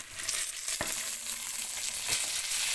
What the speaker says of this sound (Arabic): هنبتدي بقى نشوحه كده مع ايه مع الشعريه عشان يقرمش